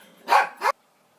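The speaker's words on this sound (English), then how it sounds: "I have 3 dogs that are protecting me right now" Two sharp, loud dog barks ring out in quick succession, close by, then silence follows in a quiet room.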